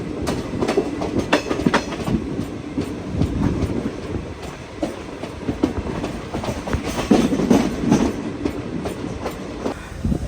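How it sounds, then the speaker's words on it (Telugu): The Sambalpur Nanded Express pulls into a station, its loud, close wheels clattering and rumbling over rail joints in a continuous rhythmic clickety-clack. "దాటుతుంటే సంబల్పూర్ నాందేడ్ ఎక్స్ప్రెస్ లోపలికి వస్తుంది అనమాట"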